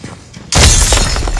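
After a quiet moment, a sudden loud explosion bursts out, followed by a crackling, rumbling tail of debris.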